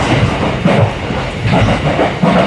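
Steady rumble and rattle of a passenger train running on rails in Japan, heard from inside an empty carriage, with rhythmic clatter swelling every second or so over a continuous low roar; no talking.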